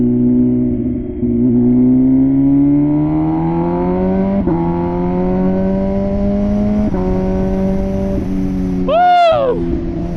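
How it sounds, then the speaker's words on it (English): MV Agusta Rush 1000 motorcycle engine on the road, a loud droning exhaust note that rises steadily as the rider accelerates through several gear changes, with a brief whoosh near the end. "not only is this a beautiful bike, it's so freaking loud"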